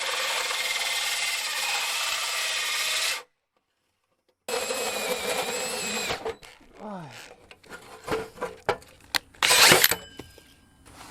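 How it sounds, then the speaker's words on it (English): A steady, loud drilling whine runs for a few seconds as a drill bores through metal on an enclosed trailer, stops briefly, resumes, then gives way to scattered clanks and scraping handling noises. "I'm going to be drilling a hole right through the metal,"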